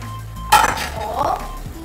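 Dishes clink in a home kitchen as a serving bowl is fetched while chili cooks, one sharp close clatter followed by a softer rattle.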